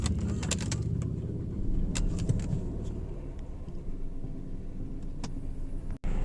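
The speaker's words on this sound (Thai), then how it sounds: "เคสตาร์ทรถนะครับ" A Mercedes-Benz C200 Kompressor W203 from 2004 running after being started, heard from inside the car as a steady low engine rumble with faint rattles and a brief cut-out near the end.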